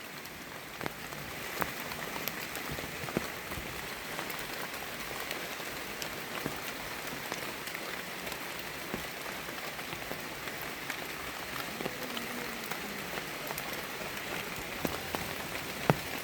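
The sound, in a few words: heavy rain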